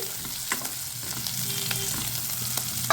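Onions and garlic cloves sizzle steadily in a pan for tomato chutney, a constant close frying hiss broken by a few soft stirring scrapes and clicks.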